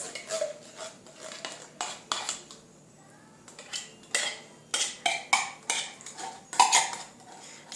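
A metal spoon scrapes thick nacho cheese out of a can in a series of short, close scraping and clinking strokes, some quick and some drawn out, with brief pauses between.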